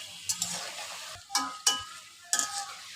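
Nimki pastries frying in hot oil in a home kitchen, a soft steady sizzle broken by a few short clinks and stirring knocks of a utensil against the pan.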